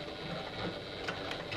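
A Janome HD9 sewing machine stitches at about a 4.5 stitch length with a quarter-inch seam, a brief quiet run of rapid mechanical whirring and needle clatter with no voice.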